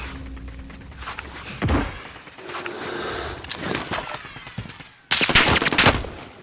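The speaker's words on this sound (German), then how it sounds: "Ich werde beschossen!" Bursts of rapid gunfire crackle in a Call of Duty: Warzone game soundscape, with a loud sustained volley near the end.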